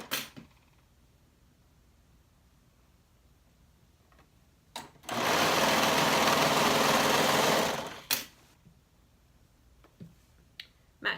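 A sewing machine runs in one steady burst of about three seconds, stitching the short end of a flutter sleeve seam, with quiet clicks and handling sounds before and after.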